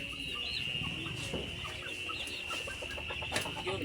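Several chickens cluck and chatter nearby in a steady stream of short calls over a constant background hum, fairly quiet and without talk.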